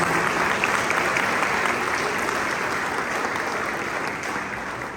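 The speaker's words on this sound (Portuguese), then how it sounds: "Aplauda forte em nosso Deus" A church congregation at a Portuguese-language worship service claps loudly and continuously, a thick, close wall of applause that fades slightly toward the end.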